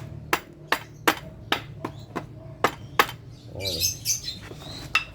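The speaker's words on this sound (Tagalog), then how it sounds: "Pwede nyo siyang pukpukin." A hammer pounds on a Honda Dio ZX scooter engine part during an overhaul. About nine sharp, close metallic blows land in a steady rhythm, followed by a brief squeaky scraping.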